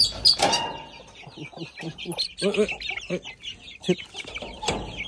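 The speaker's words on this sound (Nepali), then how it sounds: "यो पनि मेरो कुखुराकै खोर हो यहाँ चाहिँ हाम्रो सबै लोकल कुखुराहरू छ" Local chickens cluck and squawk in short, irregular bursts close by inside a coop, with a sharp cackle early on and occasional voices in the background.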